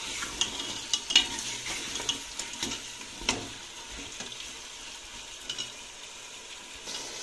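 Potatoes stir-fried in a handi, a steady faint sizzle with irregular scraping and clinking strokes of a spoon against the pot, no voices.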